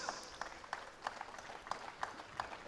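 Faint, sparse applause at the ASB 1000 race winners' ceremony of the Asia Road Racing Championship in Malaysia, with distant, rhythmic claps at regular intervals.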